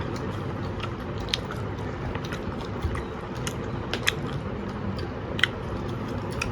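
Several people biting into and chewing fresh guava together, with repeated crisp crunches and wet chewing close by over a steady low background rumble, no talking.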